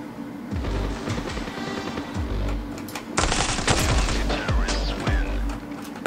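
Rapid bursts of Kalashnikov assault rifle fire in the shooter game Standoff, loud and close, with repeated automatic volleys and heavier crashing shots in the second half, over a steady game background.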